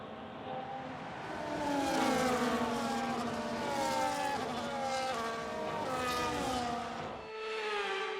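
Formula 1 cars on a dry formation lap in the F1 25 game, engine tones rising and falling in overlapping sweeps as several cars pass at moderate distance, fairly quiet and without speech.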